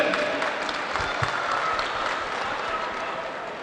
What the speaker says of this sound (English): Big round of applause to the children